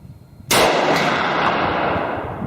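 A Glock 32 pistol with a 4-inch barrel fires one loud, sharp .357 SIG round close by, followed by a long reverberant decay and a faint second crack.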